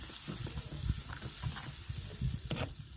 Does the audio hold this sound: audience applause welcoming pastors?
no